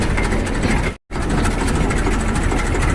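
A loud, steady tractor engine drone runs continuously up close on a farm, broken by a split-second gap of silence near the start.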